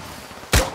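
A single sharp thump as a flare is fired in Call of Duty: Warzone, brief and fairly loud against a quiet background.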